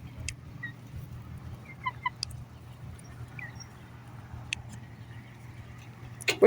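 Backyard chickens in a garden in the evening, giving a few soft, scattered clucks and calls from a short distance over a steady low hum.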